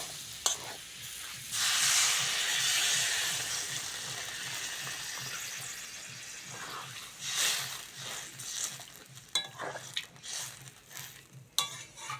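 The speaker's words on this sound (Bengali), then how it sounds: "মশলা ভালো করে কষে নিয়েছি এবার জল দিয়ে দেবো" Water poured into fried spice paste in a pan for a tangra fish curry sets off a loud steady hiss, with stirring and scraping of pots and utensils, then quieter bubbling and clinks.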